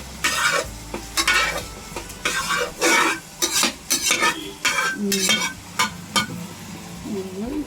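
Vegetables sautéing in a pan for sambar are stirred with a utensil in bursts of scraping, clattering strokes over a continuous oily sizzle, close and loud, with brief pauses between strokes.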